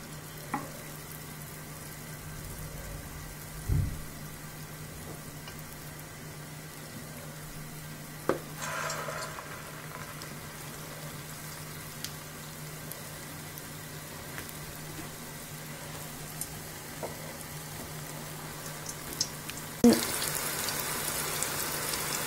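Purnam burelu dumplings deep-frying in oil over medium heat, a quiet steady sizzle with occasional soft clinks and stirring noises, ending in a louder burst of bubbling.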